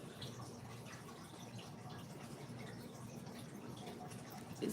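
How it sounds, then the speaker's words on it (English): A water filter trickling softly like a small fountain, a faint, steady babbling flow that continues evenly without voices. "It sounds like a fountain. That's the filter."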